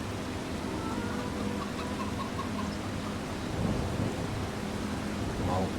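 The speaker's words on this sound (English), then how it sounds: "The rain is really coming down." Heavy rain pours steadily in a farming video game, while a low thunder rumble rolls underneath and swells toward the end.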